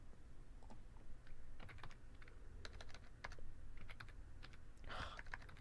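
Soft, irregular clicks and taps from fingers typing on a computer keyboard, fairly quiet and close, with uneven bursts of keystrokes and brief pauses between them.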